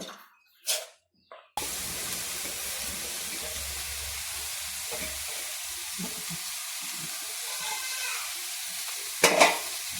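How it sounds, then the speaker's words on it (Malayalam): Mustard seeds dropped into hot coconut oil, a few brief knocks followed by a sudden sustained frying sizzle with faint crackles and one sharp spurt near the end. "എണ്ണ ചൂടായി കടുകിട്ട് അര ടീസ്പൂൺ കടുകിട്ട്"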